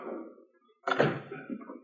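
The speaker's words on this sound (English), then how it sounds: "Wait till I shut the door." A door swings shut with a solid thunk and a brief rattling tail in a 1950s radio western drama, after a moment of near silence that follows a muffled voice.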